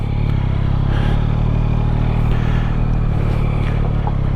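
Yamaha MT-09 motorcycle cruising steadily, its engine a constant close, loud drone with rumbling lows and wind noise throughout, no speech.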